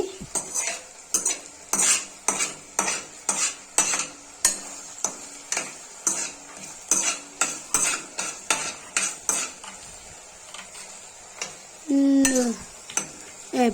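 Mint cooks in a curry pan, and a spoon strikes and scrapes the metal in a quick, regular rhythm over a soft sizzle, loud and close, followed by a brief squeak near the end.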